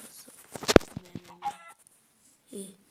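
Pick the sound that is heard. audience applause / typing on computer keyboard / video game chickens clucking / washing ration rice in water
video game chickens clucking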